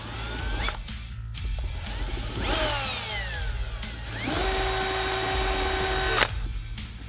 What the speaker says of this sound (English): When you're drilling this lower hole, make sure you don't pop through the other side of the fender.